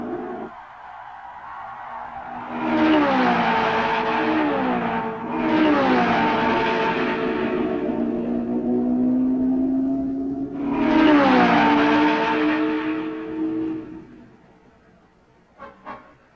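Open-wheel race cars at the 1965 Indianapolis 500 roar past in repeated loud passes, engines rising and falling in pitch as each car sweeps by, with a sustained howl between passes and a brief quieter moment at the end.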